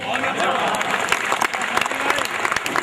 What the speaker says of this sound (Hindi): गलत जगह ताली बजा दिया आपने